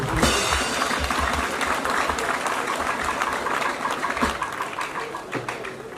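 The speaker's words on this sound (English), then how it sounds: "Let us applaud you." An audience claps steadily at a customs welcome ceremony, with a dense, even patter of applause throughout and no speech over it.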